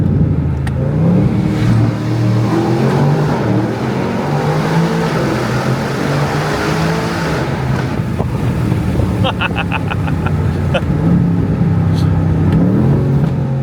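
An Aston Martin Vantage sports car engine drones loudly while driving on open roads, its pitch rising and falling through gear changes, with wind rush throughout and a voice briefly talking over it.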